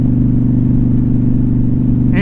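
A motorcycle engine running steadily with a low, close rumble, then revving up sharply near the end during a downshift.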